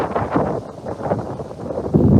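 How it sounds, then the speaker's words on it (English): Big gust of wind buffeting the microphone outdoors in Vermont, rough surging roar that rises and falls over two seconds, loud and close. "That is a big gust of wind."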